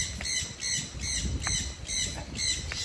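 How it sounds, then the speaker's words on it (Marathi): A myna bird at a coastal Konkan adventure park and aquarium gives repeated sharp squawking calls in quick bursts, close and clear against a quiet background. "मैना ओरडते बघा कशी"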